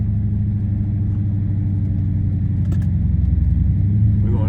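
A 6.4-litre SRT8 V8 idling steadily while being warmed up, with a suspected lifter tick or exhaust leak, giving a loud, continuous low rumble with a faint rhythmic ticking throughout and no talking.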